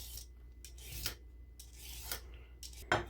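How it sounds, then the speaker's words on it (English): A knife cuts through carrots, giving a few short, crisp chops and scrapes spaced irregularly, close and fairly quiet against a soft background. "we cut the carrot"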